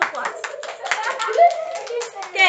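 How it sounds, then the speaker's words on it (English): A group of children clap a round of applause during a rhythm-counting music lesson, with steady, busy hand claps running the whole time, mixed with a little child chatter. "Round of applause."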